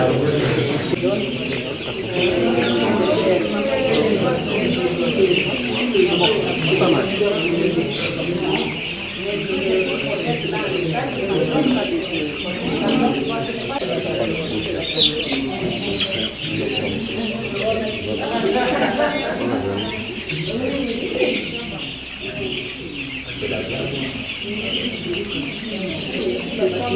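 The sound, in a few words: chickens clucking in a poultry farm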